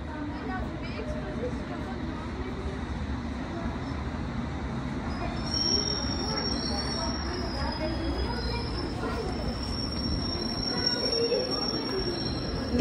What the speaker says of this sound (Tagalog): Na-timingan, may train dumating.